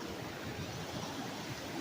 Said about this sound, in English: this is the waterfall that just keeps on going